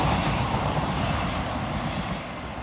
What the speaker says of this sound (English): it's only the local trains, I think, running from Manchester, Sheffield, about once every half hour